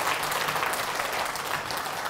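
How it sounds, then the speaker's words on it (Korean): An audience at a Korean faith-and-health lecture applauds a pastor after a song, a steady round of close, dense clapping that fills the whole moment without talk. "우리 고 목사님에게 다시 한번 큰 박수 쳐주시기 바랍니다."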